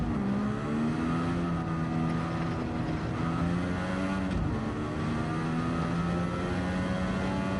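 Turbocharged DeLorean engine in a racing video game, a steady droning growl with rising and falling revs as the turbos build, holding at a fairly even level throughout.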